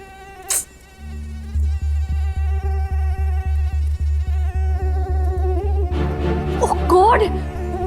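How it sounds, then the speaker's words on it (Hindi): Mosquitoes in a room whine with a steady, close buzzing hum that lasts nearly the whole stretch, fairly loud and alone, with a brief extra sound near the start and more clutter toward the end. "इतने मच्छर कैसे है इस कमरे में?"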